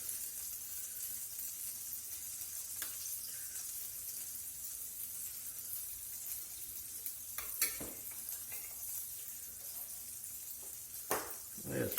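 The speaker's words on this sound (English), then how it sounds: "We're going to let these sizzle up till they get a little bit golden on that side." Rendered fat and chili sauce sizzle steadily in a skillet under a corn tortilla for birria tacos, a faint, constant frying hiss with occasional sharper pops and crackles.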